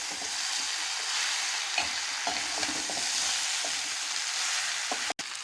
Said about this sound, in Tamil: இப்போ இது கூடவே நம்ம வேக வச்சுருக்கிற மரசனிக்கிழங்கு ஆட் பண்ணிக்கலாம். மிக்ஸ் பண்ணி விட்டுக்கலாம்.